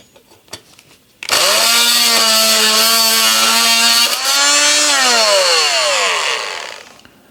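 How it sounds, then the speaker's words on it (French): An oscillating multi-tool starts up with a loud, steady high-pitched buzz, holds for several seconds, then winds down as its pitch drops. "Outil multifonction magique."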